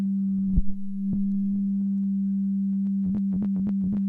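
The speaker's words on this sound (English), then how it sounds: "I'm sending a sine wave through this really quick just to show you" A steady low sine wave passed through an all-pass filter in the Fruity Love Philter plugin hums throughout, broken by a few clicks and a quick run of rhythmic pulses near the end.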